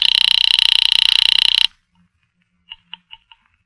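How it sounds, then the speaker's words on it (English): A telephone bell rings steadily and loudly within a 1950s radio mystery drama, the buzzing ring cutting off abruptly, followed by a few faint clicks as the line is picked up. "I'm ringing Miss Blake's apartment."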